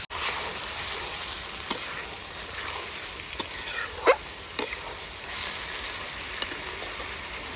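Whole chicken leg pieces fry with onion, giving a steady close hiss of sizzling oil punctuated by a few sharp pops and spatters, with no voices over it.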